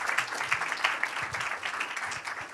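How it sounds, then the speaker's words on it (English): An audience at a science symposium gives a short burst of applause, a dense patter of clapping at moderate distance, fairly soft and without talk over it. "Round of applause."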